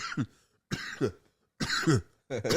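Four short, harsh coughs from smoking cannabis, in separate bursts, close and fairly quiet, with brief silences between them.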